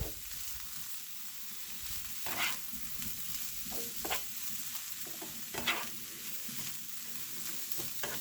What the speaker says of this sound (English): Now I'm going to stir it all together.